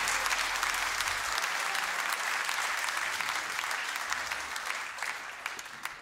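Concert audience applauds at a live tribute show after a saxophone passage, a dense, steady wash of clapping that stays loud for the full stretch and eases slightly toward the end.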